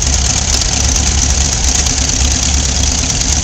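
A roughly 20-horsepower Wisconsin V4 engine on a 1946 New Holland model 76 hay baler runs loud and close in a field, a steady throbbing rumble with a rough, knocking mechanical texture and no talk.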